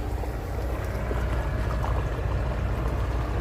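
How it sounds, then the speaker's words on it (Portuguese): Water pours steadily out of a floodgate, a continuous low, rushing roar with a broad, noisy texture, moderately loud and unbroken throughout. "parece que a água só saindo da comporta"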